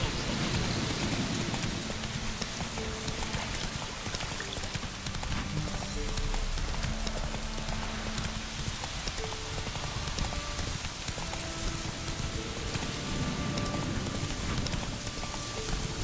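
Horse hooves clip-clopping steadily through rain in The Witcher 3, a continuous patter of raindrops layered over rhythmic hoofbeats, with soft game music tones drifting in the background.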